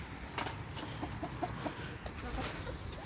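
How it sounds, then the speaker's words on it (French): Antwerp Bearded bantam chickens and hens cluck in short soft bursts, scattered and close, over a steady background hiss with faint talk. "je vous montre toutes les poules"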